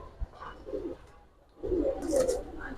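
Giribaz and coloured pigeons coo at close range, soft throaty rolling calls in two bursts over a low background murmur.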